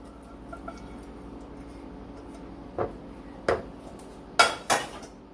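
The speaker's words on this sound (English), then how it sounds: "Now put your egg noodles in there" Egg noodles going into a casserole dish for chicken and broccoli casserole, a few sharp clinks and knocks of utensil on dish over a quiet background, spaced out and growing louder toward the end.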